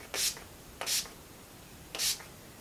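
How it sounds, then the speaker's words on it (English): Three short hissing bursts of makeup setting spray, evenly spaced and close by, each lasting a fraction of a second with quiet between. "Gonna do a final spray of the All Nighter."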